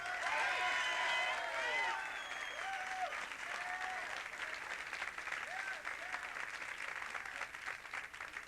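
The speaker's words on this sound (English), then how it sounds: "Sal, give Sal an applause there." A live comedy and magic show audience applauds a volunteer named Sal, the clapping loud at first and then settling into a steady wash with faint crowd murmur underneath.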